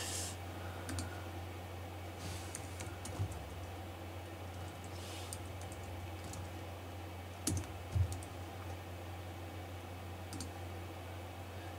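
Steady clicking of computer keyboard keys typed continuously at close range, with a few sharper keystrokes standing out, recorded during a screen-recording and streaming session.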